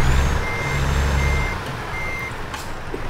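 In American Truck Simulator, a truck backing up a trailer sounds a loud, evenly spaced run of reversing beeps over a low engine rumble. The beeping stops partway through, leaving the idling engine.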